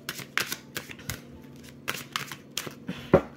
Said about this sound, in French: on va couper les cartes de toute façon